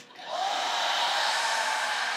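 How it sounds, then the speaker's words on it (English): A hairdryer powered by a VTOMAN Jump 2200 power station whirs up from a brief start into a steady, close, continuous airy roar. "Run the hairdryer."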